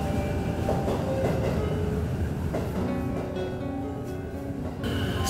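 Inside a moving train near Tokyo Station, a loud continuous rumble of wheels and carriage fills the space, with faint rhythmic clacks and hum and no one talking.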